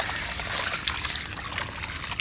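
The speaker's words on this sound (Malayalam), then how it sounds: "ഞാൻ ഇതുപോലെ ഒരു ബക്കറ്റ് വെള്ളം ഇട്ട് അത് ഞാൻ ഇതിനകത്തോട്ട് ഒഴിച്ചു കൊടുക്കുക." A bucket of water is poured into already soaked garden soil, giving a steady close trickling and splashing wash that runs without a break, with no voices.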